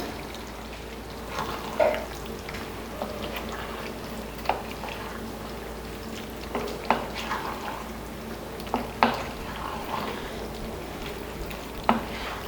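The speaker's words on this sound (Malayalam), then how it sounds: "ഇനി നമുക്കിതിലേക്ക് ഫ്രൈ ചെയ്ത് വെച്ച ചിക്കൻ ചേർത്ത് കൊടുക്കാം നന്നായിട്ടൊന്ന് മിക്സ് ചെയ്തെടുക്കാം" Fried chicken pieces being stirred into a pan for chilli chicken, giving a soft, steady sizzle with scattered scraping clicks from the spoon, moderately near and without talk.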